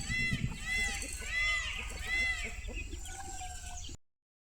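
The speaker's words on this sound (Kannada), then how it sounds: "ನನ್ನ ಸುತ್ತುಗಳು ಕೋಳಿಗಳು ಕೋಳಿ ಮರಿಗಳೆಲ್ಲ ಓಡಾಡ್ತಾ ಇದ್ವು" Chickens and chicks roaming a village yard in India give repeated clucks and drawn-out crowing-like calls at close to moderate range, with lively scratching activity between the calls.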